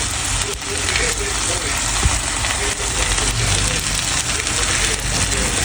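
Beef and onion sautéing in a pan for pancit, a steady broad sizzle running throughout with faint scraping and stirring clicks, close and continuous.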